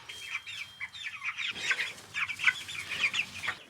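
Young chicks peep and cheep continuously inside a heated brooder, a busy cluster of high, quick chirps at close range with no voices.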